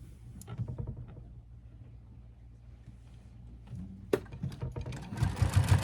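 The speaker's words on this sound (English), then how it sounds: "just sew everything back up together again" A sewing machine stitches a patchwork hoodie, its motor running in steady whirring bursts with pauses and brief handling clatter, close and fairly loud, no talking.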